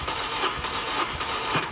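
A car engine cranks over on the starter during a compression test, a steady continuous churning with faint rhythmic pulses lasting the whole moment, fairly loud and with no talk over it.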